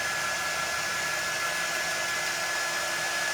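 A hair dryer blows on a craft project, a loud, steady, unbroken whoosh with a constant whine throughout.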